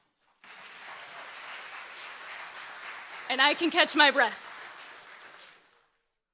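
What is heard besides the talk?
audience applause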